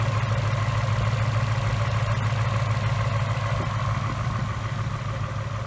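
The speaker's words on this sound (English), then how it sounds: "On this side, you can hear the injector snapping a little bit." A 2018 Mustang GT with a 5.0 engine idles steadily and loud nearby, a deep constant rumble with a faint fuel-injector tick running through it, no talk.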